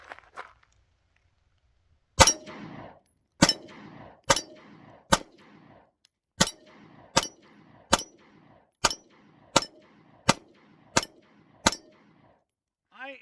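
A Gen 1 Ruger Max-9 pistol fitted with a red dot optic fires about twelve loud, sharp shots outdoors, spaced roughly evenly with brief ringing echoes between them.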